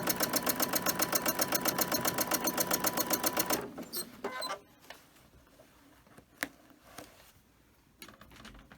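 A sewing machine doing free motion quilting on fabric for a bag, running in a fast, even rhythmic stitching burst for about three and a half seconds, then stopping, leaving a few faint clicks and handling sounds.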